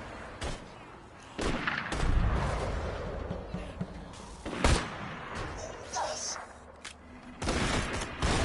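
Weapon fire in the VR shooter Borderlands 2 VR, with several sharp heavy blasts spaced irregularly over about eight seconds, loud booming hits amid game noise and some talking.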